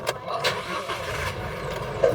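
A new car's engine revs in a few uneven surges, moderately loud and close, with a steady mechanical rumble between the bursts.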